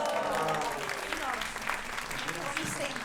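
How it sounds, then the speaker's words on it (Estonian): Theatre audience applauding at an Estonian youth theatre performance in Stockholm, a steady dense clatter of clapping held throughout at moderate level, with a voice briefly audible over it. "Applaus!"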